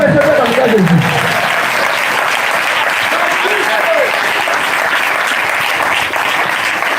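A church congregation applauding during a Pentecost jubilee service, a dense, loud, steady wash of clapping that fills the whole stretch, with a voice heard briefly at the start.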